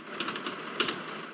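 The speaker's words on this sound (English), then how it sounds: "Oh my god, Randy, you're typing." Quick bursts of fingers tapping on a computer keyboard, a short cluster of light, crisp key clicks close up with no voices.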